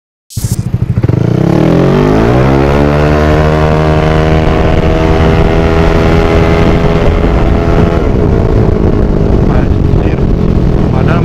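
Yamaha Aerox 192cc scooter engine revved hard at full throttle, climbing quickly from silence to a loud, sustained high-pitched wail that holds steady for about ten seconds, close to the microphone.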